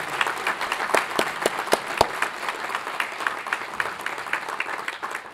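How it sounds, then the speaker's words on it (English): Applause at a junior high school building dedication, honoring the school staff: steady clapping from a moderate audience with a few sharp, prominent claps up close, fading gradually toward the end. "I got to give my staff a nice big round of applause"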